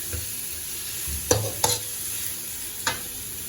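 Anchovies and garlic frying in a pan give a steady sizzle, with three sharp utensil scrapes or clinks standing out over it.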